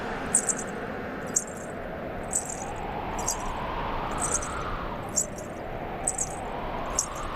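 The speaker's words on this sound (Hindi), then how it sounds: "ये किसके पायल की ध्वनि है?" Small bells jingle in brief bright bursts, roughly once a second, like steps with an anklet, over a steady low background hum.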